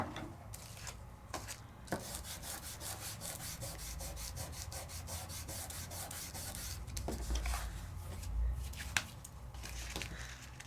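A tool burnishes microfine glitter through a layering stencil, making a steady, quiet rubbing that repeats in fast close strokes with a few small taps.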